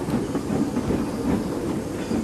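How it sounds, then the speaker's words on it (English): A narrow gauge steam engine pulls a train with steady rhythmic puffing over continuous rumbling and clatter, close and fairly loud. "Skarloey was coupled to the train, and as the passengers got in, he puffed away"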